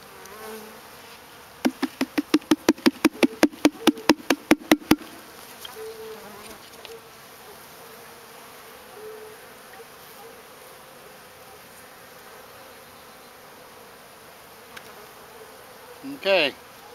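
Honey bees at a hive being fed sugar, with a fast run of sharp clicks or taps early on, then a faint steady buzz and a brief louder knock near the end.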